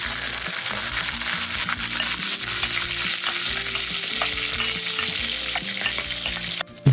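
Onions and peppers sizzle steadily in hot oil for a lamb curry, with repeated scraping stirs of a utensil against the pan, close and continuous throughout, no voices.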